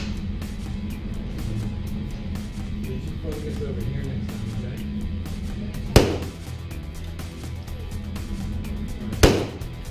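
Two sharp handgun shots fired at a close target during a point-blank target acquisition drill, spaced several seconds apart, each a loud crack standing out over a steady outdoor background with faint speech.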